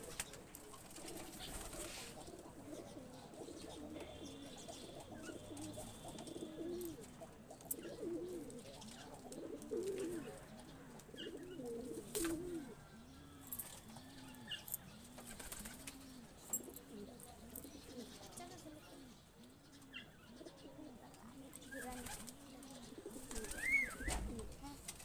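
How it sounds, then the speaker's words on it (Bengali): Pigeons coo repeatedly in a steady rolling rhythm inside a netted rooftop enclosure, several birds close by, with scattered soft wing flutters and light bird movement throughout. "মশারির ভিতর কবুতরগুলি উড়াল দিচ্ছে।"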